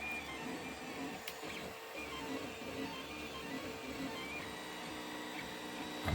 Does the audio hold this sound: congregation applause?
no